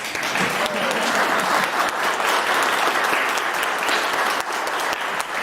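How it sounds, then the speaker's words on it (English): Audience applause fills the room, a dense, steady clapping from a crowd that holds at full strength throughout with no pause or fade. "now you can give an applause"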